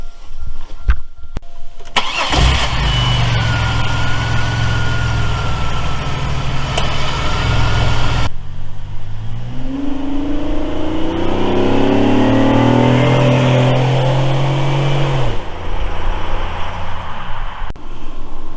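Car with a 3800 V6 and L67 throttle body cranking and starting, then idling loudly, settling, and revving with rising engine pitch before dropping back to idle.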